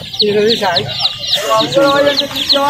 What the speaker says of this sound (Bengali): এখানে মুরগির বাচ্চা পাওয়া যায়, অনেক সুন্দর সুন্দর মুরগির বাচ্চা